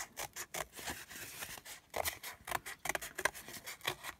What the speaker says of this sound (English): Where's my scissors gone? Just cut a circle